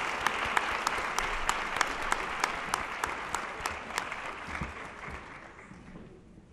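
Applause fills a science fair awards ceremony after the winners are announced, steady crowd clapping with a few sharp individual claps standing out, gradually tapering off toward the end.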